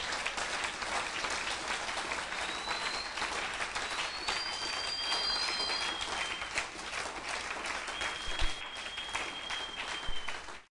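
Church congregation applauding and cheering at a worship service, a steady, fairly distant mass of clapping with high whistles or shouts drifting above it, continuing for about ten seconds before cutting off.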